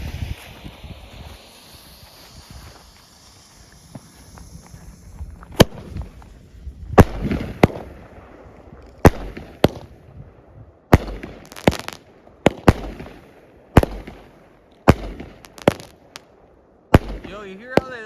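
Shots from a 16-shot firework cake pop one after another in a loose rhythm, sharp loud bangs over wind noise, with someone talking near the end.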